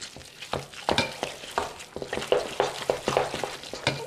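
Chicken liver terrine stuffing seasoned with salt and pepper is worked and mixed, producing a close, rhythmic run of wet squelching pushes and slaps at a steady pace. No one speaks.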